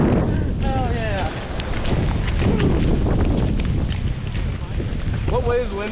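Strong, gusty wind roars across an exposed mountain summit at Bald Knob near Mountain Lake, Virginia, with 45–60 mph gusts buffeting the microphone in a continuous loud rush, while excited voices shout over it.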